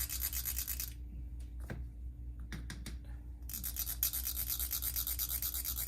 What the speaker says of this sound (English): I just kind of go back and forth with a brush or whatever you have in hand.